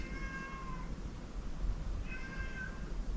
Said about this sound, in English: can hear my cat